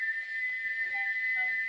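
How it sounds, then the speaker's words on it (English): A steam engine's whistle in a wooden toy-train remake sounds as one long, steady, piercing note that holds throughout at close range, with faint low rumbling beneath it. "Gordon puffed sadly away, but he wouldn't stop whistling"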